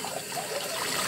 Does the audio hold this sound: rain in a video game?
no